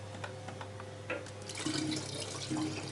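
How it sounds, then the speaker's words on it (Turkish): Yeast and sugar mixture being poured into a batch of homemade wine, a steady liquid pour with splashing that grows fuller and louder partway through, over a low constant hum. "Maya ile şekeri tanıştırıp artık içine döküyoruz."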